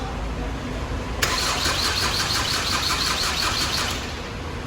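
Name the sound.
Ford Connect engine starting after rebuild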